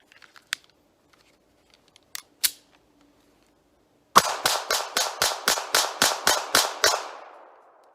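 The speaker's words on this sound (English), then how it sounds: "I'll do 2 magazines of the Federal Syntech." A Taurus GX4 pistol fires Federal Syntech 150-grain rounds in a rapid string of about eleven loud, sharp shots at an even pace, with a ringing tail after the last one, preceded by a few faint clicks and handling knocks.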